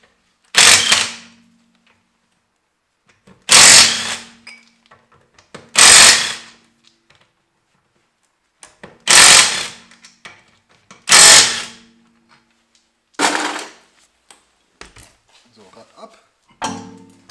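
A power tool with a socket loosens brake caliper bolts on a VW Audi with a faulty caliper. Six loud, separate bursts of roughly half a second each are spaced a few seconds apart, with quiet gaps and faint handling noises between them.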